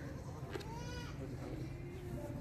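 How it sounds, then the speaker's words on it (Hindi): Goats at a livestock sale give a short bleat and a faint drawn-out call against a constant low rumble of background noise, all quiet and a little distant. "अगर आपको चाहो तो इस तरह का आपको बकरा भी दिलवा देंगे"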